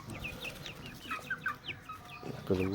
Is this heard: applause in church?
no